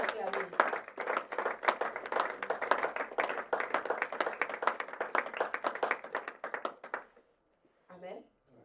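A church congregation applauding at a praise and worship gathering, dense, steady rhythmic clapping that lasts about seven seconds and then stops, followed by a brief spoken voice.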